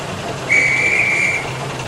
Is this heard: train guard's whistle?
yes